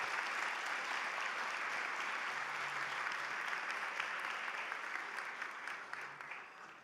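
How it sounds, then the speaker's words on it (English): Steady applause from a large crowd at a dinner program, sustained and even throughout, slowly thinning toward the end. "give a round of applause to the people that have been making this day possible"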